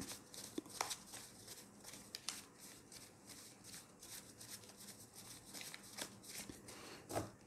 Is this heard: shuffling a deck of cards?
yes